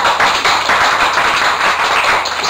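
Dense, steady clapping from a seated audience at a poetry and arts gathering, loud and continuous throughout with no talk over it.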